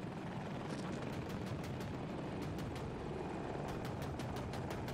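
A helicopter in the Battlefield 2042 video game roars as a steady, dense rotor and engine wash, broken by quick bright crackles of gunfire running through it, with no talking.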